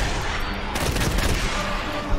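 Gunfire from the Wasteland 3 video game, a dense continuous crackle of shots with a louder burst midway and a sharp shot near the end, all under a steady game din.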